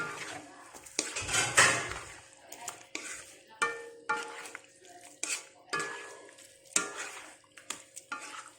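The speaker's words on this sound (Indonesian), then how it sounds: "Masukkan cabai rawitnya enggak 10" Red bird's eye chilies tipped into a pan while cooking, giving quiet clinks and scrapes of a utensil against the pan in irregular bursts over a faint background sizzle, with no voices.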